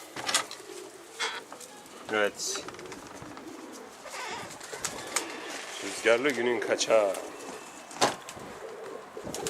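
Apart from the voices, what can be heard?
pigeons cooing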